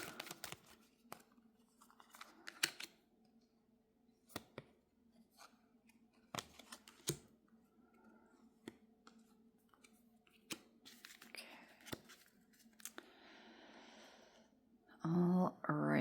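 Tarot cards being shuffled by hand, a sparse series of sharp, close snapping clicks and riffles separated by quiet gaps, with a louder burst near the end.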